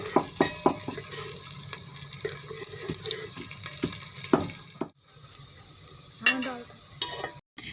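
Two medium onions, cut medium, fry in oil in a handi pot over medium flame, with sizzling, stirring clatter and occasional sharp scrapes, fairly close.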